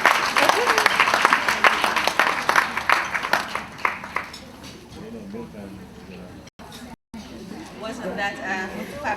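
An audience at a leadership conference applauds steadily for several seconds, and the clapping then thins out and fades. A voice follows once it dies down.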